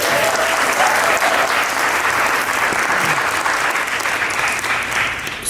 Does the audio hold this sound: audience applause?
yes